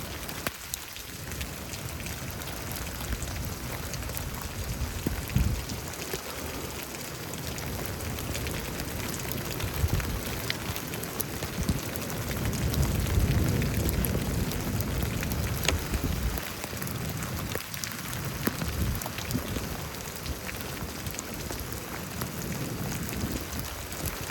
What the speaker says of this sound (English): Literally raining in.